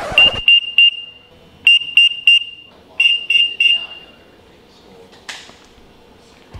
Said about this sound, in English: if a person's temperature is higher than the set threshold, then an alarm will go off